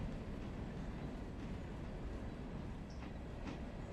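A train rolling slowly at about 8 mph in the Railroader game, a steady low rumble of wheels and cars with faint clicks and a brief squeal, continuous and fairly quiet.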